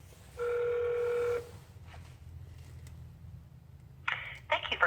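A telephone rings once with a steady tone on a call to Mobil oil customer support, followed by faint line noise and a few brief clicks near the end.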